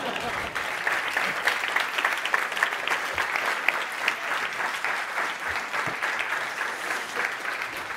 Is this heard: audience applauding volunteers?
yes